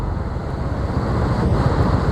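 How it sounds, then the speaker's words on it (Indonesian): Surf on a south coast beach at Alas Purwo rolls in as a dense, steady roar, blended with heavy wind noise on the microphone and no talking. "Nah, itu dia ombak pantai selatan."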